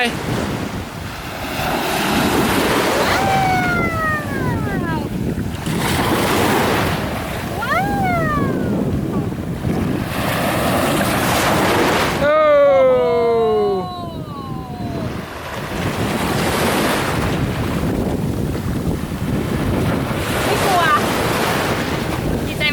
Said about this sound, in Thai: อันนี้คือทะเล